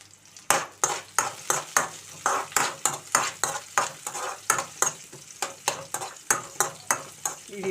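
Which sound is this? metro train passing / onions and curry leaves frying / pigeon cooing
onions and curry leaves frying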